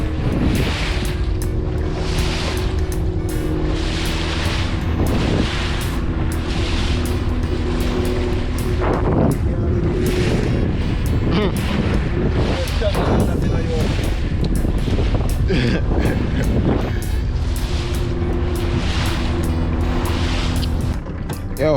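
A boat motor drones steadily over rushing water and heavy wind buffeting the microphone, at sea off Jamaica, with waves washing throughout and faint voices underneath.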